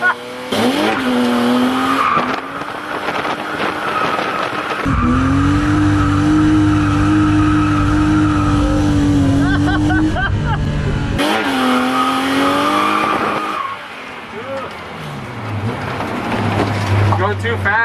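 BMW E36 drift car with a 391 engine screaming at high revs while its tires squeal through long skids, loud and close, with engine pitch rising and falling between slides and voices talking over parts of it.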